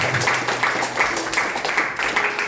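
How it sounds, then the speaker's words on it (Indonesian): Congregation applauding during a Sunday church service, a lively patter of many hands in pulsing waves at moderate volume, with some voices mixed in. "Kasih tepuk tangan yang meriah."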